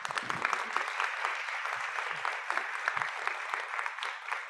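An audience applauds at the close of a two-day event, dense steady clapping at moderate distance that continues evenly throughout.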